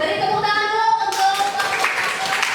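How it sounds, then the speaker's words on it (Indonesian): Students in a classroom clap for a group about to present, a close, fairly loud burst of hand claps over faint background voices. "Beri tepuk tangan dulu untuk"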